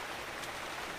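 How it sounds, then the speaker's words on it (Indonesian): Steady rain falls at a river estuary fishing spot, a dense, even hiss of drops that continues unbroken through the short moment with no voices. "Cuacanya hujan mas bro."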